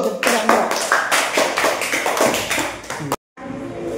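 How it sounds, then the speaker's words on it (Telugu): Children in a classroom clap in a quick run of sharp, distinct claps, fairly close and loud, while voices carry on underneath; the clapping breaks off with a brief silence near the end. "క్లాప్స్"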